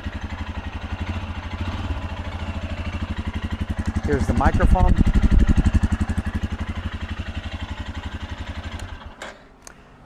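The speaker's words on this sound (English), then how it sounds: "we are going to listen to the graphite yellow, and that one will have the performance exhaust" Royal Enfield Scram 411 motorcycle with a performance exhaust idling nearby, a steady fast thumping pulse that swells briefly louder midway and then settles, with a voice speaking over it.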